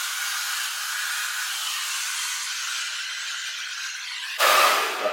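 A hair dryer blow-dries curly hair with a steady, close whooshing roar that jumps louder and fuller near the end as the airflow shifts.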